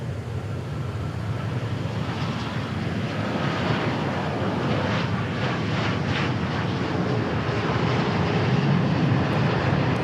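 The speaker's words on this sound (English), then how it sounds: "Here's our Turkish Dreamliner." Turkish Airlines Dreamliner at DFW Airport, a steady broad jet roar with rushing wind noise, holding fairly loud and constant throughout with no talk.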